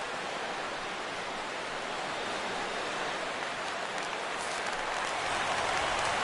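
Stadium crowd cheering and roaring in the baseball video game MLB The Show 17, a dense, steady wall of crowd noise that swells slightly toward the end, with no distinct voices.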